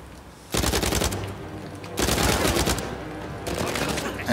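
Gunfire from the video game Uncharted 4 comes in three dense bursts of rapid automatic shots, loud and close, separated by brief quieter gaps.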